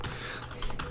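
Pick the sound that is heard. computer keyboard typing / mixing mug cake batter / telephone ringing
computer keyboard typing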